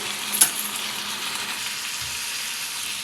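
Prawns fry in a pan with ginger and garlic, making a steady, even sizzle close by, with a brief clink of a utensil early on and a soft low thud later, no voices.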